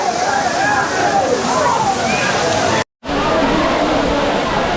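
Old Courtallam waterfall roars as a steady, loud, unbroken rush of falling water heard from close by, with a brief cut in the middle and faint crowd murmur beneath.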